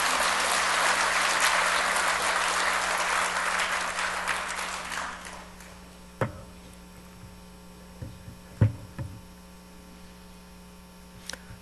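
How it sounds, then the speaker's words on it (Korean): Church congregation applause in a Korean-American church in Orange County, a loud sustained wash of clapping that fades out over several seconds, followed by a steady electrical hum with a few isolated thumps. "우리 큰 박수로 한번 환영해 주시면 감사합니다."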